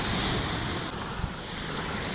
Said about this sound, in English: Sweet surf though, look at that.